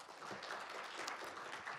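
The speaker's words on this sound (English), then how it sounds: "Please give a big applause to Second Vice Minister Mr. Lee" An audience at the 2019 World Journalists Conference applauds for a special session by a vice minister, giving a steady, moderately distant patter of many hands clapping with no one speaking.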